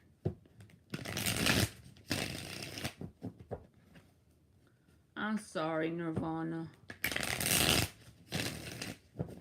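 Tarot cards are shuffled in several loud, close riffling bursts, each a second or so long, separated by a stretch of spoken words from a reader.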